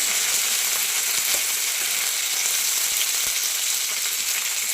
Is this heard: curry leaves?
yes